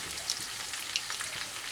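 Hot oil sizzling with a steady, fine crackle as bay leaves are dropped in for tempering, a few small pops rising above the continuous hiss, with no talking.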